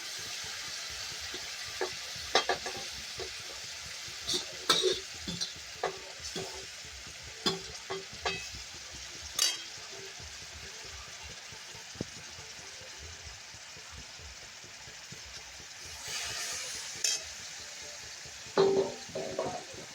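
Dill greens fry in oil with a chili, garlic and cumin paste, a soft steady sizzle broken by repeated sharp spatula taps and scrapes against the pan as it is stirred.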